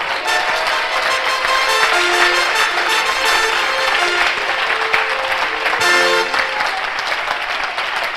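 A church congregation applauds, steady dense clapping filling the whole stretch at full loudness, with a brief surge of cheering near the end and no clear speech.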